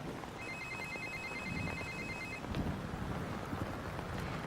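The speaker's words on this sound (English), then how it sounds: "It's gonna ring in a few seconds. You might want to take the call outside" A telephone bell rings steadily for about two seconds with a bright electronic trill, then stops, over constant outdoor wind rumble and low background noise.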